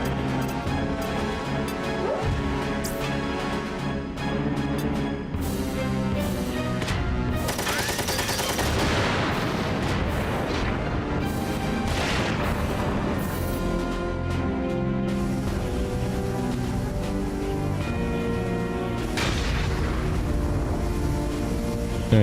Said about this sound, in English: Those are all the airstrikes I get